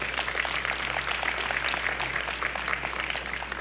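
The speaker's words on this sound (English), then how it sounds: "I think they deserve a round of applause for that." Audience applause at a mayor's parent leader forum: a dense, steady patter of many hands clapping, sustained at an even level throughout with no break.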